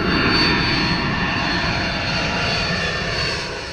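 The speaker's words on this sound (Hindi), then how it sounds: "वीडियो में देखिए कैसे प्लेन धीरे धीरे नीचे आता है और फिर एक बिल्डिंग पर क्रैश कर जाता है" An airliner descends low just before crashing in Ahmedabad, a loud, continuous broadband engine roar that holds steady and eases slightly toward the end.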